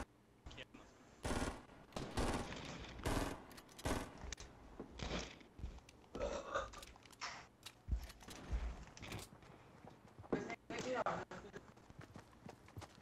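Bursts of rapid gunfire and single shots crack through in the video game Fortnite, mixed with excited talking over the action, loud then quieter in uneven spurts.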